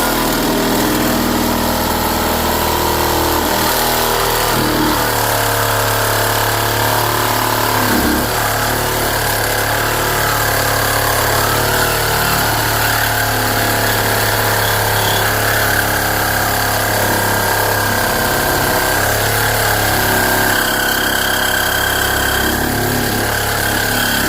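A power tool grinds steadily through a weld-in Hasport engine mount on a 1993 right-hand-drive Honda del Sol, a continuous loud whine and rumble with small shifts in pitch as it cuts.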